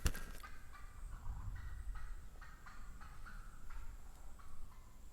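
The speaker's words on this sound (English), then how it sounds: "We have company from a turkey or two." Wild turkeys gobbling repeatedly outdoors, a series of rattling calls at moderate distance over a low rumble of background noise.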